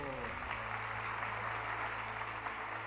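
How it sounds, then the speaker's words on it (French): An audience at an international dictation contest final applauds continuously, a steady, even wash of many hands clapping heard at a moderate distance, with a faint low hum underneath. "je pense que nous pouvons les applaudir dès maintenant."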